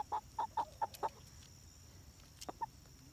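Young chickens cluck in a quick run of five short, soft calls, then pause before two more brief clucks, fairly faint and close with no talking.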